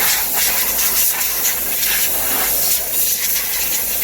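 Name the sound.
compressed air blower blowing water off diesel engine bay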